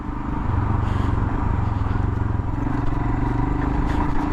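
Motorcycle engine during a city ride, a loud close throbbing rumble with steady pulsing and rattly mechanical clatter, with road and wind noise mixed in and no talk.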